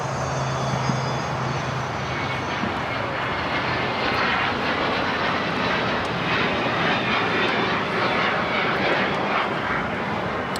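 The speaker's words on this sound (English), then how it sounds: "I don't want to miss the A380 takeoff." An Emirates Airbus A380 jet takes off at Los Angeles International Airport, its engines a loud, steady broadband roar that swells and holds throughout, with a faint tonal whine early on and no talking.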